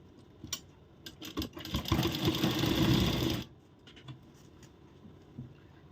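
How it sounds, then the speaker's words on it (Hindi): A sewing machine stitches the side seam of a princess-cut blouse in a single loud run of about two seconds, with light clicks and fabric handling before and after. "तो अब इसमें सिलाई लगाएंगे।"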